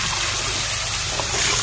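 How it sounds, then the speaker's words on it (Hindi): Water pours and trickles into a bucket of potatoes, a steady close gush with no talk over it. "और डालेंगे इसमें थोड़ा पानी।"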